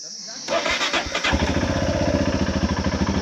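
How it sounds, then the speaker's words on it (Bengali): A motorcycle engine, with a newly replaced engine temperature sensor, catches on the first try after a cold start and settles into a loud, close, rhythmic idle with talk nearby. "একবারে স্টার্ট নিয়ে নিয়েছে আমাদের গাড়ি।"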